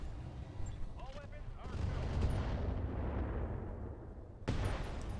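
Artillery fire in a video game, a series of heavy booming blasts followed by a long rumbling roar that slowly fades before another loud impact, with someone speaking quietly over it.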